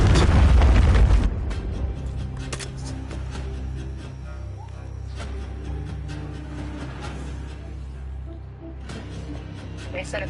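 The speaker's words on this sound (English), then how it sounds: "Friendly cruise missile deployed." A cruise missile strike in Call of Duty lands with a heavy, booming explosion that rumbles loudly for about a second, then fades into a sustained low roar with distant gunfire crackles.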